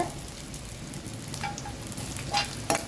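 Unpeeled garlic cloves sizzle in hot oil in a pan for rasam, a steady close crackle with a few sharper pops and brief stirring scrapes, no talk.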